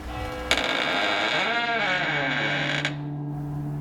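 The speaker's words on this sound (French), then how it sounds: "un grincement se fit entendre." Wooden wardrobe door creaking open in one long, loud, wavering groan that rises and bends in pitch for about two seconds, then stops abruptly, leaving a low steady hum underneath.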